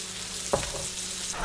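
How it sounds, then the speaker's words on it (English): Fish fillets and a ribeye steak sear in hot oil in a pan, giving a steady close sizzle with a brief sharp crackle burst as pieces go in, then continuing evenly. "I'm gonna go ahead and lay in my fillets and put in my ribeye"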